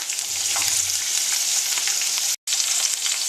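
Green beans sautéing in a pan, a steady, close hiss of frying with faint stirring scrapes, broken by a brief cut to silence near the end before the sizzle resumes.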